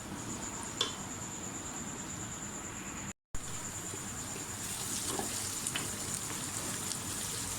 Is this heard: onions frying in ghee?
yes